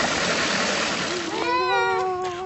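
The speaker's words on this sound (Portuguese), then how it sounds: "A própria correnteza do riacho empurra as pás que fazem girar a roda" Stream water pours and splashes from the bamboo buckets of a current-driven water wheel into irrigation channels on a farm in Vietnam: a steady close rush of water, with a voice-like tone entering in the second half.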